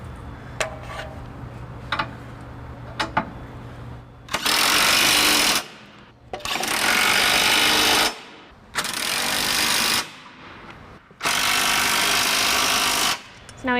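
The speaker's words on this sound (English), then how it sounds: "I'm just going to snug all 4 bolts down with an 11/16 inch socket and my electric drill" An electric drill fitted with an 11/16 inch socket snugs down the four trailer hitch bolts on a 2017 Chevrolet Cruze hatchback, running in four loud, sustained whirring bursts separated by short pauses.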